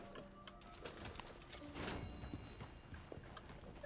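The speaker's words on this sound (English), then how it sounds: "Get back on the horse." Hoofbeats of a horse in the video game Red Dead Redemption 2, a quick run of close clip-clops over a busy, steady background rumble, with no talking.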